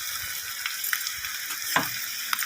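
Mutton blood fry sizzles steadily in a pan, a continuous hiss of frying with occasional soft pops and stirring scrapes, close and moderately loud, with no talk.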